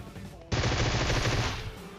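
Gunfire in the battle royale mobile game PUBG Mobile: a sudden close, loud burst of rapid automatic shots lasting about a second, over quieter game ambience.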